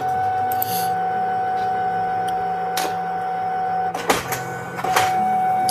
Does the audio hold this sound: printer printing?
yes